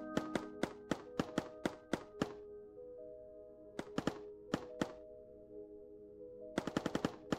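Giant robot firing in a factory video game: rapid bursts of sharp mechanical shots in clusters, with pauses between volleys and a steady low hum of game ambience beneath.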